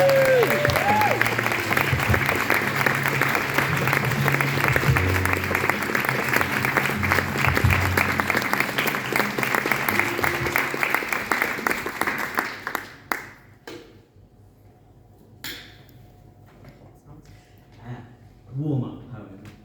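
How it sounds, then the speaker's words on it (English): Audience applause for poet Terry Griffiths inside Norwich Cathedral, a long, full wash of clapping with some voices mixed in, fading after about twelve seconds into quiet room sound and a few scattered noises. "So let's give a massive round of applause to Terry Griffiths!"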